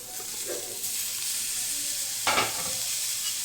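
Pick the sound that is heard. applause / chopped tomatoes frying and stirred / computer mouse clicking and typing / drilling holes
chopped tomatoes frying and stirred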